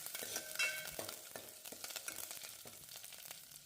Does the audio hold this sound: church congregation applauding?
no